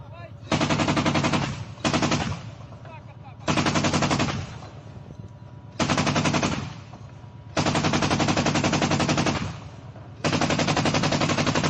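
Machine gun fire from Ukrainian troops in wartime combat: five long, loud, sustained automatic bursts with brief gaps between them, harsh and close, with no voices.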